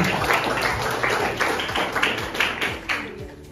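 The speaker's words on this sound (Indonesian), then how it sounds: "Oke, tepuk tangan dulu buat abang berdua." An audience at a school anti-corruption event claps for two guests, a steady wash of many hands under a busy room with faint voices mixed in.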